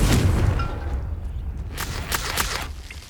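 A Confringo blasting spell in Hogwarts Legacy erupts in a loud, close boom at the start, then rumbles and crackles away with scattered sharper bursts.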